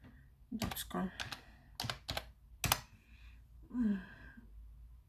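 Bursts of keyboard typing, quick clusters of key clacks separated by pauses, close and fairly quiet, with a brief voice murmur near the end.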